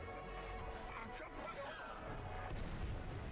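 Explosive booms and crashes from a Tower of God anime battle scene, dense and rumbling throughout, with voices mixed into the chaos.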